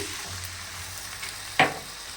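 Water goes into a pan of sizzling vegetables and shrimp, a steady close frying hiss broken near the end by a short, sharp burst of spitting sizzle.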